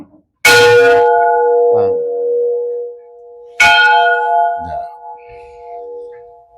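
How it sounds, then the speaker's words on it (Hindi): A temple bell at Bade Hanuman Mandir, an old cave-like Hanuman temple in Nadol, Rajasthan, is rung twice, each loud metallic strike followed by a long sustained ring that decays, with faint movement between strikes. "सबसे पहले घंटी बजा दें हनुमान जी महाराज की।"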